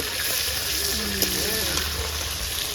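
Vetki fish pieces frying in hot oil, a steady sizzle with some bubbling and stirring, close and continuous throughout.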